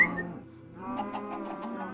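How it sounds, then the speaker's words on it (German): Chicken clucking in the video game Minecraft, several short clucks following one another at moderate volume, alone with no one talking. "Ach Gott, blödes Huhn."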